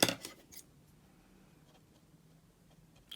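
Scissors trim excess paper from the edge of a handmade journal, with a few quick snips at the start followed by faint rustling and small scraping sounds.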